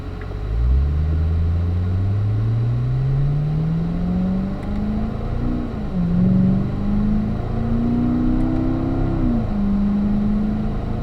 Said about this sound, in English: let's work our way back out onto the track and up to fourth gear